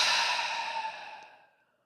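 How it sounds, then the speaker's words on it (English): A single long exhale through the mouth during breathwork, a close, breathy rush of air that fades out over about a second and a half. "exhale through your mouth"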